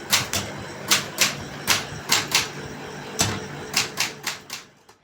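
Typewriter keys strike in an irregular run of sharp mechanical clacks, about a dozen crisp hits with short gaps between them, close up and with no voices.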